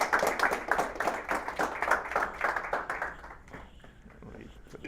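Audience applause after a presenter is thanked at a company headquarters gathering, a steady patter of clapping that fades out toward the end.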